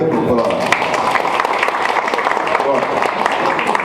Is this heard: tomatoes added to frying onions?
no